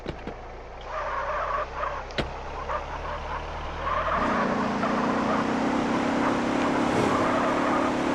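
A car in the video game GTA San Andreas Multiplayer: an engine idles under faint clicks and thumps, then revs up into a steady, louder driving drone that holds to the end.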